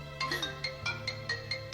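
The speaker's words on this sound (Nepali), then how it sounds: "दिदीको फोन।" An incoming call sets off a phone ringtone: a short electronic melody of bright, evenly spaced chiming notes. It plays close and alone, with no voices.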